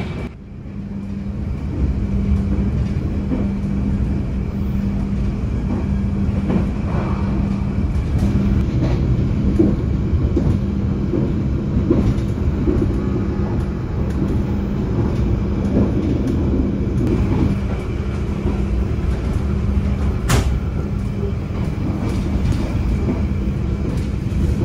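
The Argo Bromo Anggrek passenger train between Surabaya and Jakarta running at top speed, a loud, steady low rumble and roar of wheels and carriage, with a faint sharp rattle midway and no talking.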